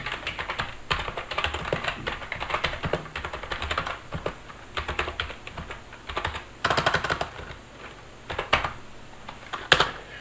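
Fingers tapping a command into a computer keyboard while setting up a Linux server, a close, irregular run of clicky keystrokes in quick bursts with short pauses between them and no voice.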